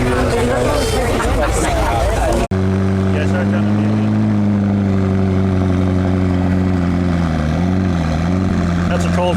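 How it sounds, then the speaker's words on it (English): A McLaren Elva fires up from a cold start at a car show, settling into a loud, steady droning idle after a sharp burst, with crowd chatter throughout. "That's a cold start on a McLaren Elva, folks."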